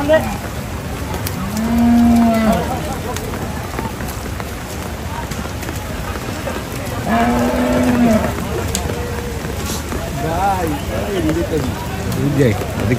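Cattle at Hazratpur cattle market, a livestock haat during rain, give two long, loud moos a few seconds apart, with busy crowd chatter and voices continuing throughout.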